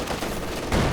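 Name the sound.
machine gun firing in Company of Heroes 2 video game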